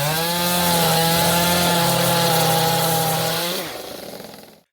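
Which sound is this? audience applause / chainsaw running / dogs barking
chainsaw running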